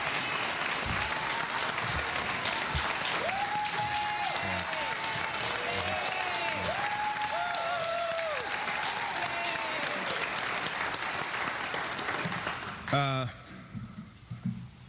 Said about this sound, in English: Well, the applause says it all, Joy.